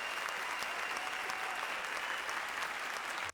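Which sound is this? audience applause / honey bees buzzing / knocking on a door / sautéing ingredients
audience applause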